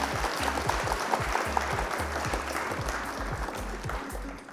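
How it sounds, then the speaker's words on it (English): Applause sound effect played as a self-congratulating round of clapping, a dense, steady patter of many hands at moderate level that continues unbroken throughout. "I'm just gonna give myself a round of applause here"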